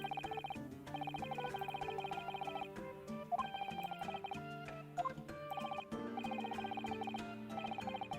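A phone rings with a repeating electronic melodic tone in regular bursts, fairly quiet and alone with no talking.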